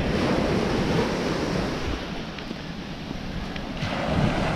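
Ocean surf rolls in at a beach, a loud, broad continuous wash of breaking waves mixed with wind buffeting the microphone, swelling slightly near the end, with no voices.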